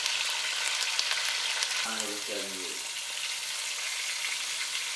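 Steady, dense sizzling, popping and crackling of a beef roast searing in a hot Le Creuset Dutch oven, loud and close, with a brief voiced sound partway through.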